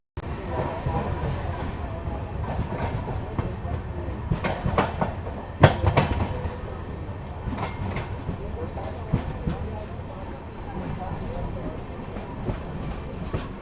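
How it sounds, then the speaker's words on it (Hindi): Amrit Bharat Express, a brand-new train, running on rails from Dausa, giving a steady low rumble with faint clickety-clack and occasional sharper knocks, heard from inside the carriage, with a few faint voices. "देखिए कितनी स्मूथ अपनी ट्रेन चल रही है"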